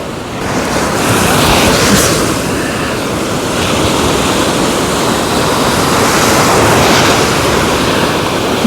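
Loud, close sea surf with whitecaps rolls on the Black Sea coast at Chornomorsk, a continuous roaring wash that swells and eases over several seconds, mixed with rushing wind against the microphone and no voices.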